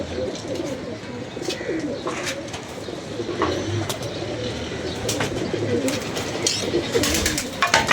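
Several pigeons keep up a continuous cooing at close range, soft overlapping calls with scattered sharp clicks and flutters, little or no talk.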